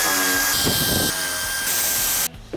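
A power tool whirs loudly while unbolting the air conditioner condenser bolts on a car in a repair shop, a continuous high-pitched drone with shifts in pitch before cutting off near the end.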